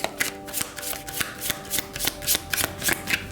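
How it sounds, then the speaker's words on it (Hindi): Tarot cards shuffled by hand in a rapid series of crisp riffles and slaps, close and clear, with a steady rhythm and no talking. "शफल कर लेते हैं कार्ड्स को ऑप्शन 1 के लिए"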